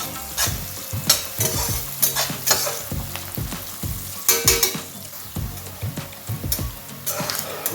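Onions and green chillies fry in a pan for a prawn curry, a close, steady sizzle broken by repeated scraping stirs of a spatula at an uneven rhythm, with no voices.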